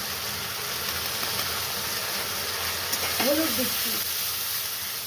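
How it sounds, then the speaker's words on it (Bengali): Spices frying in a pan for Bengali fish curry, a steady soft sizzle with occasional stirring, and a brief faint chirp-like sound near the end. "এবার আমি মশলাটা কষছি।"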